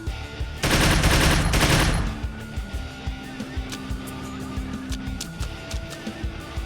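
Enemy gunfire in Troubleshooter: Abandoned Children comes as a loud rattling burst of shots lasting about a second and a half, followed by quieter rhythmic thuds and game sounds with no talking.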